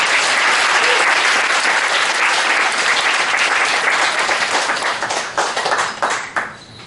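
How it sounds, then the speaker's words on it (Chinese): A concert audience gives loud, dense applause for an Amis music troupe, sustained clapping that thins out and fades in its final moments. "我们掌声鼓励好吗"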